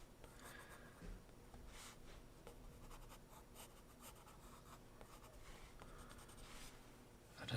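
Alcohol markers drag and squeak softly across paper in short, repeated strokes, quiet and close, with a steady scratchy texture and no talking.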